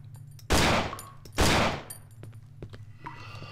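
Gunfire in the horror video game Cry of Fear sounds as two loud, sharp shots about a second apart, each with a decaying tail, followed by quieter clanks and game noise.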